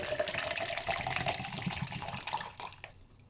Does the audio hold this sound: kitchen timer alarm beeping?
no